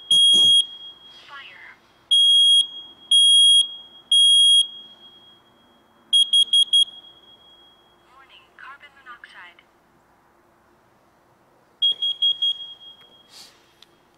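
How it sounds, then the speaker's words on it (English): A home smoke alarm runs its test with loud repeated high-pitched beeps in groups, followed by a carbon monoxide detector's test pattern of shorter clustered beeps, with bursts of electronic chirping between them in an otherwise quiet room. "it will go in a sequence to do the smoke alarm and then the carbon monoxide"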